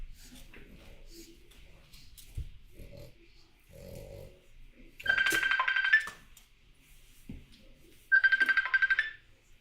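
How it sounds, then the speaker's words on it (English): A telephone rings indoors in two loud bursts separated by a pause, with pugs snuffling and snorting quietly nearby in between. "Let's go answer the phone."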